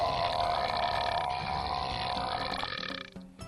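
One long, loud, resonant burp rumbles on for about three seconds, tapering off at the end.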